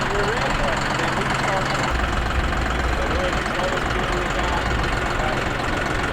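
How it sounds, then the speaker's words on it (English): A new tractor's engine rumbles steadily and loudly throughout, close by, with a constant droning texture and no breaks; the tractor runs a 12 ft rotary cutter for mowing tall grass. "our tractor is here and our huge mower"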